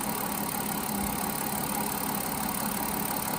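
2007 Mazda MPV engine idling with a misfire, heard close up as a loud continuous rumble with faint rattling and a slight squeal, steady throughout without speech.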